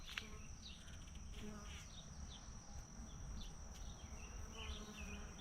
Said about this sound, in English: Hi, sweet bees.